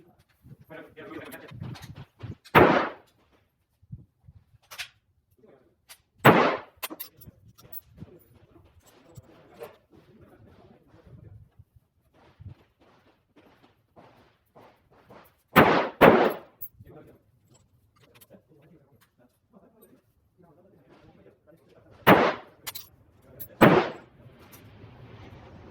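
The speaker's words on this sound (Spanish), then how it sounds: "una secuencia de 5 disparos de las que estuve realizando en el día de ayer" Five rifle shots from a long-range precision rifle, fired in an outdoor setting with wind present. They come as sharp, loud reports spaced several seconds apart, with pairs at moments. Birds coo faintly between the shots.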